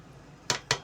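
Two quick metallic clinks ring out as a utensil strikes a metal pot while spices are mixed into masoor dal, close and sharp over a quiet background.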